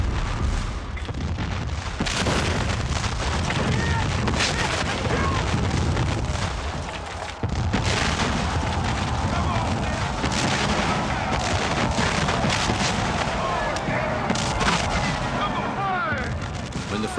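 Dense, continuous battle fire from cannon and massed muskets at Gettysburg, with heavy booms and crackling volleys blending into a loud, sustained roar across the whole stretch.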